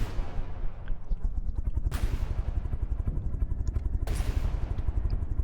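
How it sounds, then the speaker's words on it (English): Cannons firing in the naval combat game From the Depths, heard as a dense, steady stream of rapid booming shots with a rumbling low end, punctuated by two sharper, brighter blasts, all at close range with no talk. "I think I'm very happy with these cannons."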